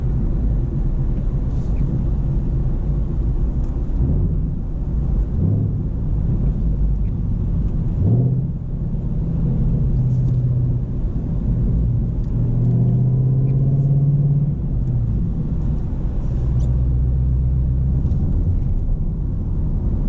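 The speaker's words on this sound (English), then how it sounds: "Just listen to this exhaust and just enjoy it." Engine and exhaust of a Ford Mustang GT Premium with a manual gearbox, driven at night, heard from inside as a steady deep rumble with rising and falling revs, alone without talk.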